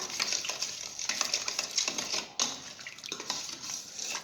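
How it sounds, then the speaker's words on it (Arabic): Ingredients for croissant dough being stirred in a bowl until they melt together, giving close, steady scraping and light clinking of a utensil against the bowl in repeated strokes, with no one talking. "هنفضل نقلب لغاية ما المكونات كده تدوب مع بعض."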